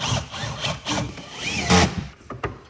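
A power drill whirs in short bursts against wood, with scraping and rattling handling noise close by.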